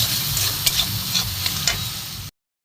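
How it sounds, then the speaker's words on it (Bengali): Garam masala powder and grated ginger are stir-fried in a pan for a vegetable dal, giving a steady close sizzle with a few sharp stirring clicks before it cuts off abruptly. "মশলাটা সুন্দর করে কষিয়ে নিই।"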